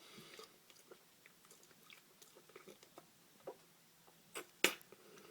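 Someone chews a Double Bubble gumball up close, with soft wet smacks and clicks in an irregular rhythm and a couple of sharper snaps near the end, quiet overall.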